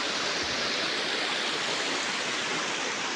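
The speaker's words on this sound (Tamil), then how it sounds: "பாருங்க ஃபால்ஸ் பாருங்க, இதுதான் ஃபால்ஸு" A waterfall in the middle of a forest pours with a dense, even roar of rushing water, close and continuous with no other sounds.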